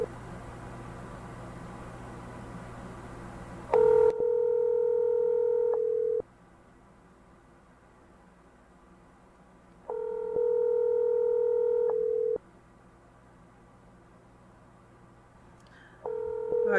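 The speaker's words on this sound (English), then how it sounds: "I'm going to start calling people." Telephone call tones: steady two-tone ringback pulses repeating about every six seconds, each lasting roughly two seconds, after an initial burst of dialing noise, with faint line hiss between rings and no talking.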